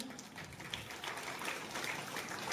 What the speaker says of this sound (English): I'd like to give a great applause to her.